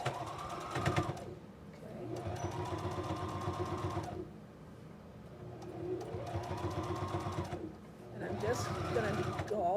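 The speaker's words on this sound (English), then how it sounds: "Just going to go all the way around, and this is top stitching, so you want a bigger stitch length." Sewing machine top stitching fabric with a long stitch length, running in steady whirring runs separated by short pauses, close and clear, while a person talks over it.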